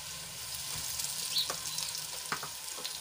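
Chillies sautéing in a pan for a Gujarati thali, giving a steady, soft sizzle with a few light stirring clicks scattered through it.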